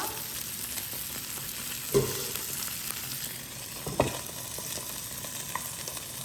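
Trout stuffed with bacon fries slowly on a griddle with a soft, even sizzle throughout, close but quiet, broken by a couple of faint clicks from utensils or a lid.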